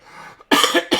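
A man coughs sharply twice in quick succession, close and loud, after a brief throaty breath.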